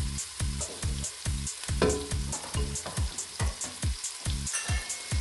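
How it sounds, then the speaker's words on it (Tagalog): Onions caramelize in a pan, their soft sizzle broken by a regular, rhythmic run of thumps and scrapes from stirring, about two per second, fairly quiet and close, with no talking. "Caramelize mo muna yung sibuyas."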